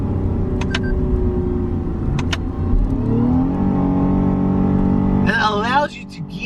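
A 2021 Lexus IS350's V6 engine drones steadily close by, then its pitch climbs as the car downshifts through a corner. The engine note stays loud throughout, with a short squeal near the end.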